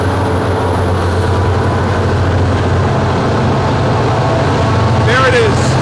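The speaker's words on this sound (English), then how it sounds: "the train departs behind us" A heavy, steady rumble of a departing train rolls on continuously, loud and close, with a faint voice briefly near the end.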